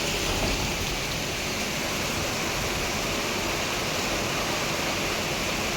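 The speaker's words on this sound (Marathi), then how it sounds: "तर चला आता कधी पाऊस थांबतोय" Steady, dense rain falls without a break, a loud even hiss that stays level from start to finish with no talk over it.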